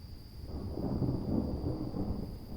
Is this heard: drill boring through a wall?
no